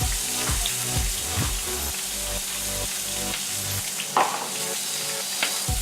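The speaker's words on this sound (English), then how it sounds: "I'm going to start frying off some of this corn." Corn kernels fry in a skillet over medium heat with butter, giving a steady sizzle and crackle throughout, with occasional stirring and scraping knocks close by.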